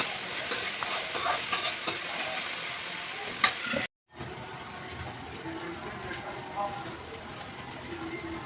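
Okra (bhindi) curry fries in a pan in a home kitchen, a soft continuous sizzle with occasional stirring scrapes, close but quiet, briefly cut by a moment of silence.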